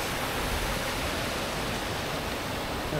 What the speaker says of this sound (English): small river, small stream.